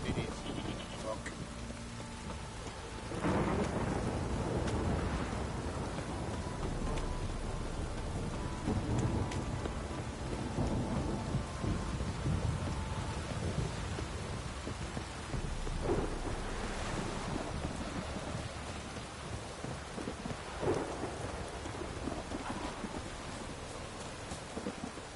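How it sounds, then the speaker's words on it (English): Heavy thunderstorm downpour in the video game The Witcher 3, with steady dense rain hiss and several low rolling thunder rumbles across the whole span, while a voice talks intermittently over the storm. "This downpour's a bastard, it is."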